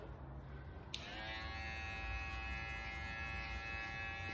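Black Knight foil shaver switching on with a click and then running steadily over stubble, a close, even electric buzz with a faint hum, no talking.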